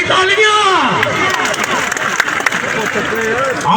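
An outdoor crowd at a village kabaddi match claps and cheers in a loud, dense mass, with voices and chatter mixed throughout the applause.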